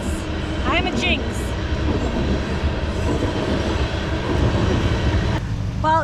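Steady low rumble and clatter of a train rolling past in the Red Wing area of Minnesota, loud and continuous, with brief voices and squeals near the start and end.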